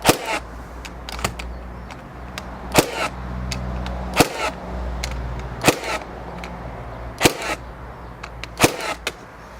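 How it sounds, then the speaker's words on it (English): Ryobi 18V cordless framing nailer firing nails into LVL timber, about nine sharp, loud bangs spaced unevenly over a steady low motor hum, with no talking. "So LVL into LVL for a framing nailer"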